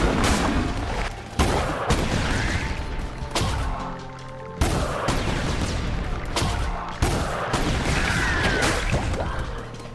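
Explosions and gunfire from the video game Cult of the Lamb burst in repeated loud, dense blasts with abrupt cuts between them, filling the whole stretch with heavy booming crashes.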